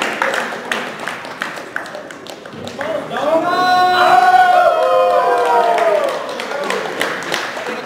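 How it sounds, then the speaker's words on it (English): A 10 Planet crowd at the 2014 ADCC North American East Coast Trials cheers during a 76-kilogram grappling semifinal after a tight Kimura, with scattered claps and shouts swelling into a loud, sustained wave of yelling voices midway before easing back. "Big cheer from the 10 Planet crowd."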